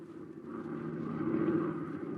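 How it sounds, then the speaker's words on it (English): An aeroplane sound effect from a 1942 radio drama: a steady, low droning engine hum that swells slightly and fades, faint and alone. "We bring you now the sound of an aeroplane,"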